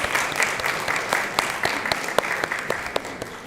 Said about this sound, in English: can we just welcome them with a clap?